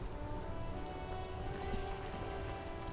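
Steady rain in the video game Disco Elysium, a soft, even hiss of drops falling on surfaces with no voices, holding constant for the whole stretch.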